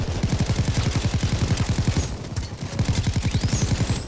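An OKM SMG in the video game Payday 2 fires long, rapid full-auto bursts, loud and close, with a brief pause in the middle before the firing resumes.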